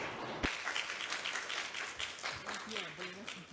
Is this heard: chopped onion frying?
no